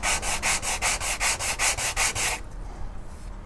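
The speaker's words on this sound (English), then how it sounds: "take some sandpaper and just rub them all together along the sandpaper to get all the sides equal" Estes Death Star rocket model parts are rubbed on sandpaper in about a dozen quick, even back-and-forth strokes, a loud rasping rhythm that stops and leaves quiet room noise.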